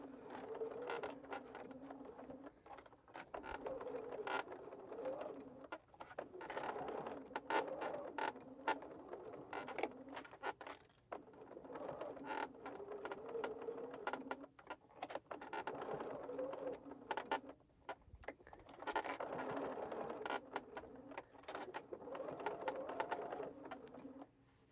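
Sewing machine stitching slowly through many thick layers of a tote bag, producing a faint, labored mechanical creaking and ratcheting that pulses unevenly throughout.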